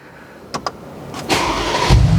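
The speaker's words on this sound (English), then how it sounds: "I'm just going to turn the engine on for 1 second" A couple of quick clicks, then a Mercedes G-Wagon engine cranks and catches, settling into a steady idle close by.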